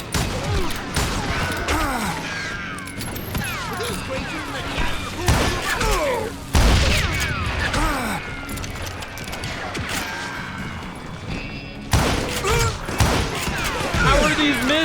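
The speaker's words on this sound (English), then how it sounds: "Who's shooting at us?" Gunfire erupts in Call of Juarez: Gunslinger at a camp outside Parachute, Colorado, with volleys and impacts layered over game sounds while someone speaks throughout.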